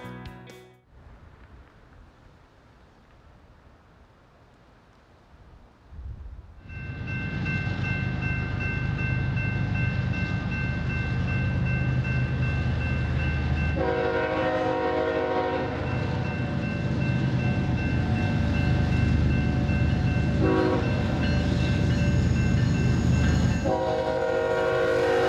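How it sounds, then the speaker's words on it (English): Trains crossing the Mississippi River bridge at Prescott on the Wisconsin border. A low rumble rises after a quiet start into a steady, loud rolling roar of rail cars, with sustained horn blasts sounding repeatedly, including one around the middle. "we selected a number of positions to film trains crossing the bridge across the border"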